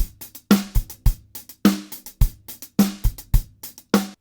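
Kick, snare and hi-hat play a drum groove somewhat unevenly and stiffly, the hits landing in a rough repeating pattern, close and loud with no voices.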